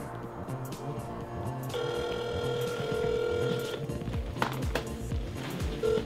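A US car dealership's telephone ringback tone repeats in steady pulses, unanswered, over a busy, noisy background with rustling and clatter.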